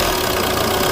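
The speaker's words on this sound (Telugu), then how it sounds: "ఇంజన్ నాయిస్ కూడా చాలా స్మూత్గా ఉందండి" Diesel engine of a 2014 Maruti Ertiga VDi idling, a steady, even low rumble that holds close and constant throughout the short stretch with no talk over it.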